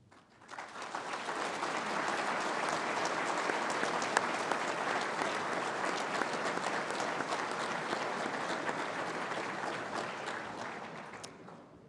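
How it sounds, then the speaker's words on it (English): Audience at an Eagle Recognition Dinner applauding donors, a dense sustained burst of clapping from many hands that starts quickly, holds steady for about ten seconds, then fades out. "Can the donors again now please stand and receive a round of applause for their financial contributions?"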